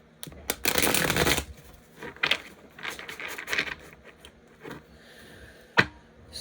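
A deck of playing cards shuffled at a table, a loud burst of riffling followed by shorter clicking riffles and card snaps, close and alone without talk.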